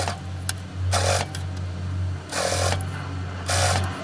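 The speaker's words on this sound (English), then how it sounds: "Do an edge stitch." Sewing machine edge-stitching a reversible apron, running in three short bursts of fast whirring stitching over a steady low motor hum, close up, with no talking.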